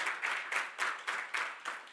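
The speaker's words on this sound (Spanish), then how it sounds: "Vamos, denle un aplauso fuerte al Rey de Reyes" A church congregation claps in praise of the Lord, rapid rhythmic clapping that surges in regular waves, moderately near and steady, with no talk over it.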